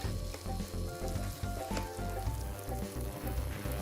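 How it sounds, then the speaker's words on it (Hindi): Ginger garlic paste sizzles steadily in hot oil in a pan, a close, dense crackle with no pauses and no voices. "अब इसको भूनेंगे कब तक, जब तक कि अदरक लहसुन पेस्ट का कच्चापन ना मर जाए"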